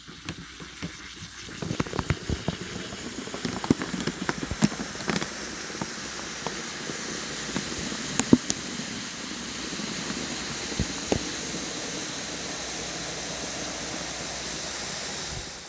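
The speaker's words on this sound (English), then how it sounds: "It is loud and it's putting off a lot of steam." Flameless ration heater from a UN patrol combat ration pack hissing and steaming steadily, a broad rushing hiss with scattered crackles and pops that builds and holds, no talking.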